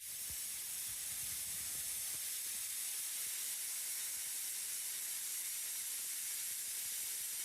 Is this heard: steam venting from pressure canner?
yes